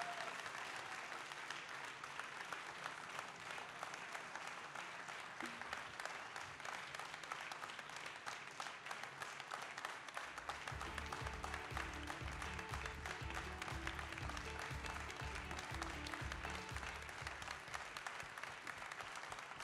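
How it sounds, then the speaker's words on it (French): Sustained applause from a large crowd at a ribbon ceremony, steady and dense throughout; rhythmic music with a deep beat joins underneath partway through. "Donc je vous demande d'applaudir Michel Bourrel, que chacun connaît."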